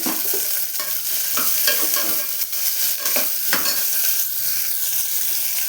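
Chopped beans sizzle in a hot pan while a spoon stirs and scrapes through them, making a steady close frying hiss with repeated stirring scrapes and no talking.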